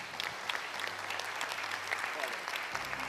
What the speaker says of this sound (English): give a round of applause to the panelists